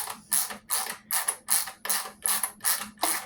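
Steel bolt being turned into a threaded hole in a Pioneer PL-518 turntable foot to cut threads, eight regular grinding, ratcheting turns at an even pace, close and fairly loud, with no talk.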